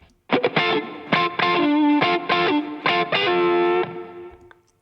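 Distorted electric guitar lead, processed through analog emulation plugins and Warm Audio hardware, plays bending, sustained notes with compressed ambience, loud and alone.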